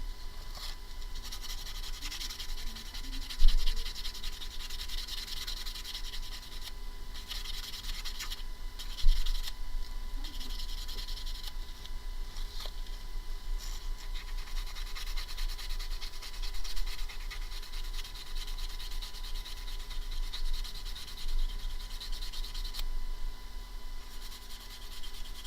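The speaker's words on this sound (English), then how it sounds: "I'm going to try and sand this one with a little bit more alacrity than I did the other one." Someone sands a tiny beaded stud earring with a steady, dense scratching and rubbing that persists throughout, punctuated by a couple of sharper knocks and a faint electrical hum beneath.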